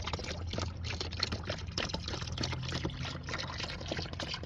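Green copper naphthenate wood preservative is poured into a dipping container for beekeeping equipment, making a steady, continuous liquid pour with a close, even splashing trickle throughout.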